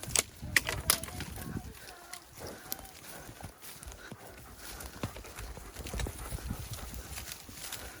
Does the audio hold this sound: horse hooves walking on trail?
yes